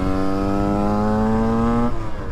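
Motorcycle engine on a short ride, a steady harmonic drone held near and loud, then dropping off near the end as the throttle eases.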